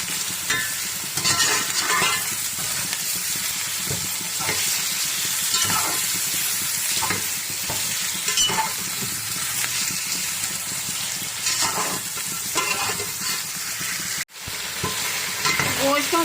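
Goat meat, about 1.5 kg, fries in a pot with a loud, steady sizzle and repeated stirring scrapes, with one brief break near the end.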